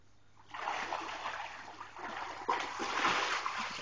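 A big splash from someone diving into water, a bright rushing splatter starting abruptly, with a second surge of spraying water partway through, fairly faint and recorded nearby.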